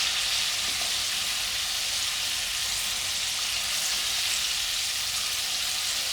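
Chicken wings for Korean fried chicken frying in hot oil, a steady, dense hiss and sizzle that stays even and close throughout, with no talking.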